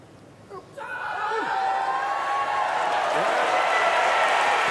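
Arena crowd at an Olympic men's 54kg weightlifting final roaring in approval after a 179 kg lift, a loud sustained cheer with applause that swells quickly and holds steady.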